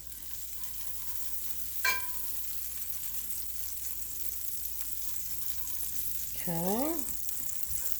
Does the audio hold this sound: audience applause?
no